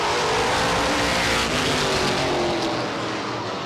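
Short-track race cars at Star Speedway in 1994 run nose to tail down the back straightaway, a loud, dense engine roar sweeping past and slowly fading, with no voices.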